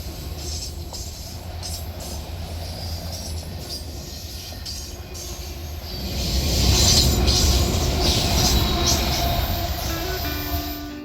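A freight train led by an SD60 locomotive rolls past at Bainbridge, New York, with auto racks at the rear: a steady loud rumble of wheels on rail, swelling louder near the end as cars go by, with high squeals.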